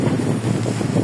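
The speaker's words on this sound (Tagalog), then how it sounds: "Sarap ang hangin." Strong wind buffets the microphone in a constant low roar and rumble, loud and close, with no one speaking.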